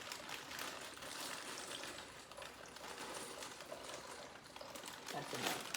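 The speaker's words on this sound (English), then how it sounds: "the warm water has come to a boil" Salted water at a rolling boil in a pot for macaroni, a steady broadband bubbling hiss that holds constant and close for several seconds with no talk over it.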